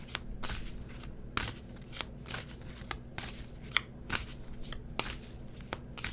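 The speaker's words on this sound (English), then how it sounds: "let's pull some angel cards" A deck of angel cards being shuffled by hand, quiet repeated riffling snaps and soft slaps in an irregular rhythm, close and faint with no talk.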